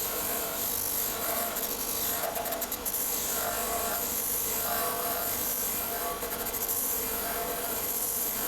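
An old BSA Empire Star fuel tank being rubbed down by hand, a loud, steady, rasping scrape of abrasive on metal in continuous back-and-forth strokes, up close with no talking.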